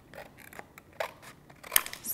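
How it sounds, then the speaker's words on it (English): Scissors or a guillotine snipping away the base of a piece of card in a scrapbooking craft session, a few quiet, crisp cuts at close range with brief pauses between them. "either with your guillotine or your scissors, just cut that base away"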